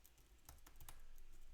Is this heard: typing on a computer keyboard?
yes